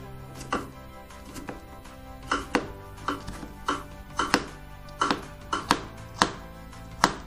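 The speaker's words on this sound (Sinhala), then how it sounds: "එක් අතර කපලා අනිත් අතර කපලා හොඳට ලස්සන කුඩු හදා ගන්න පුළුවන්" A knife finely chops vegetables on a cutting board for a mixed vegetable salad: a series of about fifteen crisp, close thuds in loose, uneven bursts, with no talking.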